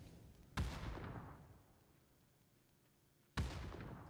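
Two grenade explosions in PUBG go off about three seconds apart, each a sudden heavy boom followed by a rumbling decay, muffled and distant-sounding against quiet background noise.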